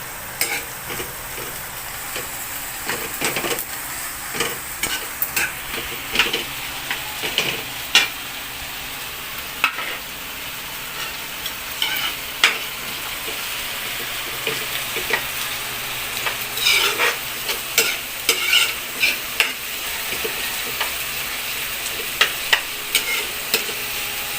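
Tomatoes frying in oil for seafood kare-kare are stirred again and again, a continuous sizzle broken by frequent clattering scrapes of a spoon against the pan, close and fairly loud, with no talking.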